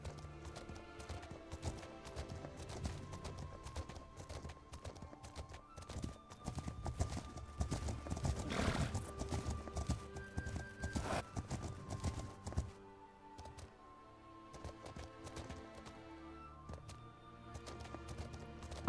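Mongolian horse hooves clip-clop steadily in The Legend of Khiimori as the rider crosses the steppe, a continuous rhythmic trot under soft game music and ambience.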